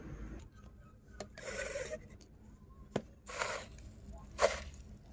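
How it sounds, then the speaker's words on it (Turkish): Fine pumice is poured and rubbed into a succulent arrangement pot in a few short, gritty rasping bursts separated by quiet pauses, heard close. "Birazcık ponza ekleyeyim."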